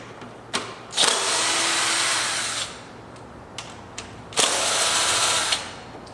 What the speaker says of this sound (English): I'm going to remove those with electric screwdriver.